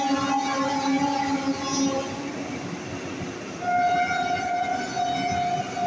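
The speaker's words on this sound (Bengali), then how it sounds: "Howrah Kamakhya sleeper Vande Bharat passing Chuchura." Howrah–Kamakhya Vande Bharat Sleeper Express train passing Chuchura station, a loud continuous rumble of rolling wagons with sustained horn tones sounding over it throughout.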